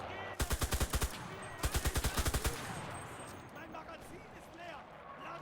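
A machine gun with a double magazine in the video game Enlisted fires two rapid bursts of about eight close, loud shots each, followed by a quieter stretch of fainter movement.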